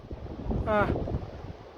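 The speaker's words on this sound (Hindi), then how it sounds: "कितना ही खतरनाक और बढ़िया झरना है।" The Sahastradhara waterfall on a Himalayan trek to Satopanth Lake makes a steady broadband roar of rushing water mixed with wind buffeting, and a brief voice rises briefly above it.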